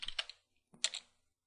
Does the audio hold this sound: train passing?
no